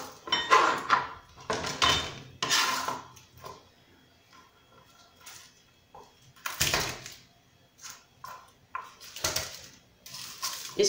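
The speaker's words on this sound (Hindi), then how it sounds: "इसको हम बारीक बारीक क्रश कर लेंगे" A single garlic clove is crushed finely, with irregular bursts of pressing and grinding knocks separated by quiet gaps, close and fairly loud, mixed with small clatters of kitchen utensils.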